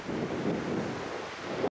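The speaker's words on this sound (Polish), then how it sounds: "Zawsze chciałem zobaczyć ocean." Ocean waves rush onto a South African shore in a steady, broad wash, heavily mixed with wind buffeting the microphone, before cutting off abruptly. No voices.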